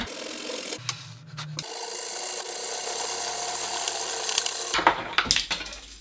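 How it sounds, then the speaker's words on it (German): A hand saw rasps back and forth through a threaded steel rod in a long steady stretch, bracketed by short clanks and scraping handling noises. "Und säge einmal kurz die Gewindestange an."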